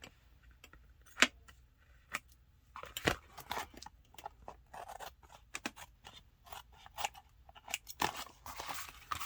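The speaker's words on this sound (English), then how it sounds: "I'm going to go ahead while I got the scissors out and I'm trimming" Scissors trimming paper overhang on a mixed media card, a series of close, faint crisp snips and crunchy cuts at an irregular pace with quiet handling rustles between them.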